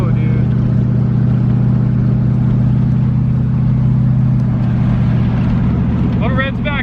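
A 1985 C4 Corvette running open headers pulls hard, its loud, raspy exhaust drone steady and close before easing off near the end, with a voice briefly audible at the close.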